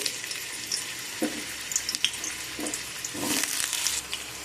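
Potatoes frying in hot oil for a Bengali spinach-stem dish give a steady close sizzle with a few clanks of stirring, with no voices.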